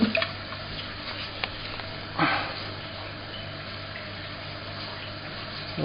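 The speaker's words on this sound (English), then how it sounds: "The water's running nice and steady there." Water runs steadily through the cooling line of an alcohol still, a continuous soft hiss and trickle at constant level with one brief splash partway through.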